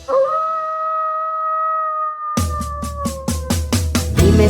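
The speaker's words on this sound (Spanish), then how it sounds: "Dime si tú sabes cómo hace el lobo" A wolf howls in a long, sustained, gently falling tone with no other sound, then continues over a rhythmic, pulsing children's song beat that enters partway through.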